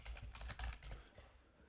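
Computer keyboard keys tapped in a quick burst of typing into a Microsoft Word document, close and fairly quiet, with no voices.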